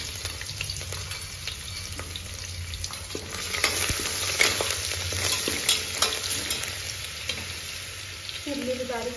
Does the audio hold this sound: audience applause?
no